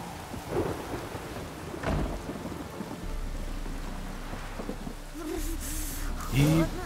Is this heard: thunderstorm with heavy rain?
yes